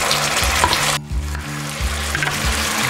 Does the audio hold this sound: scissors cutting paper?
no